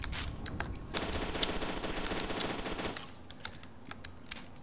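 An automatic weapon fires a sustained burst in the shooter game FEAR 2, with rapid, dense shots for about two seconds between sharper single shots and clicks, loud and close.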